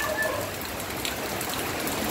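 Steady rain falls outdoors during a home car-wash pressure washer unboxing, a continuous dense patter with no talk over it.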